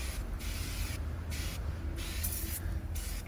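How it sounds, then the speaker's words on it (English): Several short hissing sprays from a spray bottle of cleaner inside a very dirty car interior come in quick bursts, close up, with brief pauses between them. "carefully spray it on everything."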